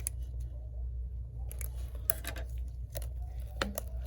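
Scissors snipping through an iPad Air ribbon cable during a screen replacement, giving a few quiet, sharp clicks over a low background hum.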